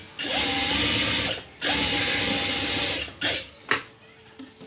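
A sewing machine stitches a churidar sleeve in two long steady runs of whirring needle motor, close and loud, then a few short bursts and clicks as the fabric is adjusted.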